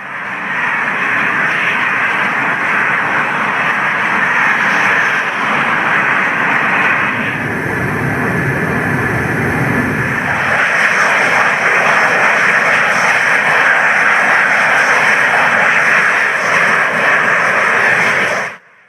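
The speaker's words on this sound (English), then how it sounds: "the squadron will be formed by two Spanish Eurofighters and a nEUROn RPAS" Spanish Eurofighter jets and a nEUROn drone flying in the ARMA 3 video game, a loud, steady jet engine roar that holds throughout with a brief shift in tone midway, no voices.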